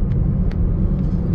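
A car driving along a road, a steady low rumble of engine and tyre noise close by and continuous, with no talk.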